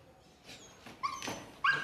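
A sniffer dog checking a suitcase for hidden cash gives a couple of short, sharp barks and yips close by, with quiet shuffling between them and no talk.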